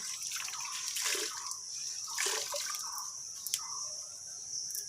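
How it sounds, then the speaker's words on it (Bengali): A floor-mopping cloth being washed in water, with splashing, sloshing and dripping in bursts, close and fairly loud. "এটা আমাদের কি ধুয়ে নিলাম বলো তো বন্ধুরা, এটা আমাদের ঘর মোছার কাপড়"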